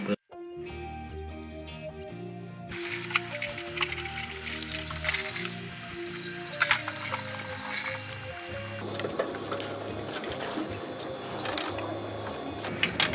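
Harbor Freight electric winch mounted on a garage floor and running on battery power, a steady mechanical whine and hum that turns rougher and noisier partway through.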